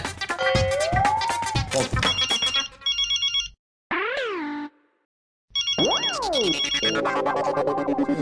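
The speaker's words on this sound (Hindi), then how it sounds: "ये बॉस का फोन, ये चैन से कुछ खाने भी नहीं देगा" A synthesized mobile ringtone plays loudly and close, a bright electronic melody with rising and falling swoops and short pauses between its phrases.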